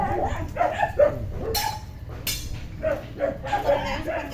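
A dog yips and barks in short bursts, fairly close, mixed with voices talking nearby and a couple of sharp noises.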